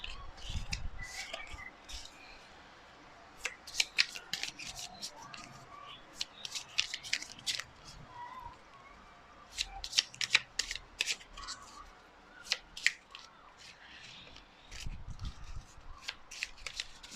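A deck of tarot cards being shuffled, heard as bursts of crisp riffling and flicking cards in irregular spells over about seventeen seconds, close but fairly quiet, with pauses between.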